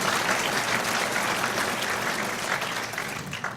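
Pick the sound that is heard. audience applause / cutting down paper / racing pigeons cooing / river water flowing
audience applause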